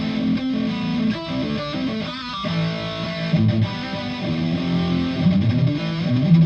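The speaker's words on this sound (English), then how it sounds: "It's based on an orange rock reverb Mark 1 through an orange PPC 212 cab." Heavily distorted electric guitar played through an amp model based on an Orange Rockerverb Mark 1 into an Orange PPC 212 cabinet, a loud, continuous high-gain riff with chugging rhythm and sustained chords, no voices.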